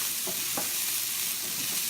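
Garlic sizzles in a frying pan for a vegan stuffing, a steady close crackling hiss broken by a couple of brief stirring scrapes, with no talking.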